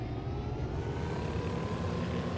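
A propeller aircraft engine in Garry's Mod drones steadily and loudly, a constant rumbling hum with no pauses throughout.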